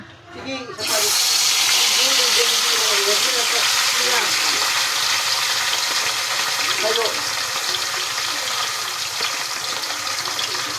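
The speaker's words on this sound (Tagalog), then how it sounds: "magpiprito po tayo ng tilapia" Tilapia frying in a pan: a loud, steady oil sizzle starts abruptly and holds, with a faint voice underneath.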